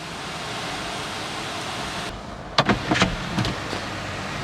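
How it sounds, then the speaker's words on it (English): The panoramic sunroof of a 2022 Toyota Urban Cruiser Hyryder strong hybrid SUV opening electrically inside the cabin: a steady hiss, then a cluster of small mechanical clicks and clunks as the panels start to move. "You can see the sunroof opening."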